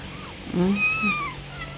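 A small cat gives a short, high meow, close by and fairly soft, against a quiet background.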